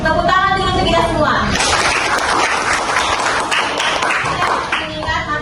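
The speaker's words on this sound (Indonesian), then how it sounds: "Tepuk tangan dulu untuk kita semua." Students in a junior secondary school classroom break into a loud, dense burst of clapping that lasts a few seconds. A teacher talks just before and just after it.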